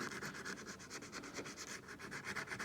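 Sandpaper rubbing across a resin casting to finish its surface, a close, even rasp in quick back-and-forth strokes repeating rhythmically without pause.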